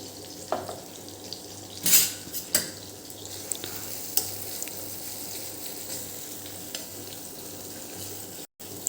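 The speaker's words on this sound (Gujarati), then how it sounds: "હજી થોડા આપણે ટામેટાં ચડવા દઈશું।" Tomatoes cook in a pan for a Punjabi corn curry made without onion or garlic: a soft, continuous sizzle with occasional clinks and scrapes of a spoon stirring against the metal.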